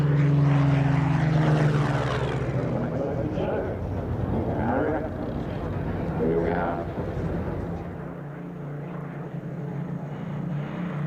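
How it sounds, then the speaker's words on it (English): Three Hawker Hurricane propeller fighters fly in formation at a British airshow, their engines a loud, steady drone that fills the whole stretch and eases slightly toward the end, with a voice talking over it. "Three Hurricanes in formation."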